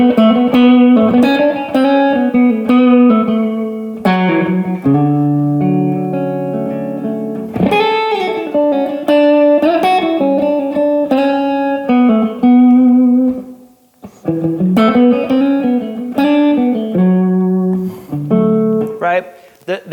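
Electric guitar improvising melodic lines and chord comping built on neighboring tones, clear sustained notes and chord stabs at a steady moderate level with brief pauses, no voice over it.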